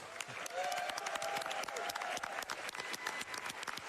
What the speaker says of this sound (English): can we get one more big round of applause for everybody who was involved with TASBot this year?